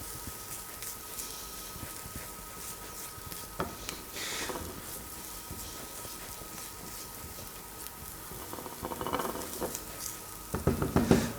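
Shallots frying in a pan over medium-high heat, a soft steady sizzle with occasional stirring scrapes and bursts of crackle, quiet and close, with no talking.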